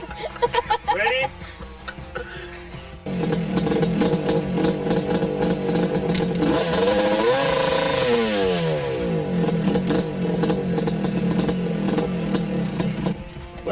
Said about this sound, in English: What I'm doing here right now is just playing around, having a good time doing a little wheelies.